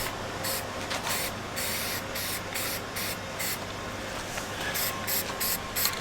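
Short bursts of a black spray paint can hiss on and off in a loose rhythm, close up, painting a replica E-11 blaster, over a low background hum.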